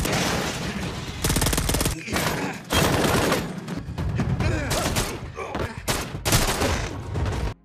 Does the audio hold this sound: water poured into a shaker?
no